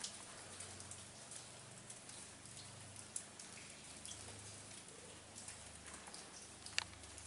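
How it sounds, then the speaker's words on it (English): Constant dripping and pattering of water like steady rain inside an abandoned anthracite coal mine, with occasional louder individual drops, echoing faintly in the enclosed space. "Sounds like a rainstorm down here."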